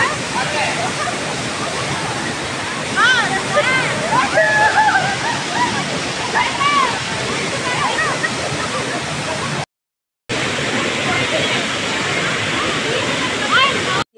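Apsarakonda waterfall near Honnavar pours in a steady broad roar, with people splashing and sloshing in the water and voices calling over it; the rush cuts out briefly near the end.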